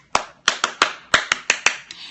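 A classroom rhythmic clap used to focus students: about nine sharp, crisp hand claps in a quick syncopated pattern, close and clear with no talking.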